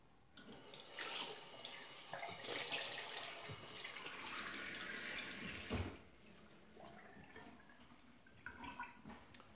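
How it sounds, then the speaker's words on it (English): A bathroom tap runs as water splashes while a face is rinsed after a shave, a soft, uneven gush with splashing bursts and quieter trickling stretches. "Now I'm going to rinse my face with warm and then freezing cold water."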